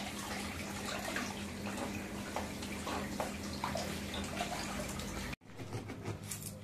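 Water runs and splashes steadily while a pet dog is bathed, a continuous close pour that cuts off abruptly near the end and resumes more softly.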